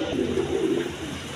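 A pair of Bombay-breed pigeons, a Bombay male with a Fieldback hen, coo softly and close in a short rolling burst.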